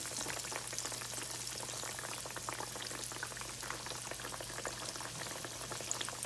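Green tomato slices frying in a pan give off a faint, continuous bubbling sizzle with fine crackles over a low steady hum, heard alone without talk.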